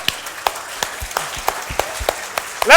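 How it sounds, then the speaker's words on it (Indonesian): Congregation at an Easter church service clapping for a birthday: a sparse, loose run of individual claps, fairly close and irregular, ending in a brief louder burst. "tepuk tangan."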